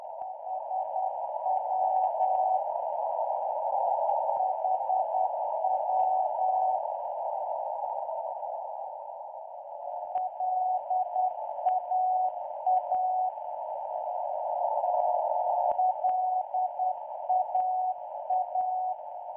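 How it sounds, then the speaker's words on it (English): A non-directional radio beacon heard on shortwave sends its one- to three-letter Morse call sign as a steady single tone, keyed in repeating dot-dash groups with brief gaps and faint static crackle underneath. "Each NDB is identified by a 1, 2 or 3-letter Morse code call sign"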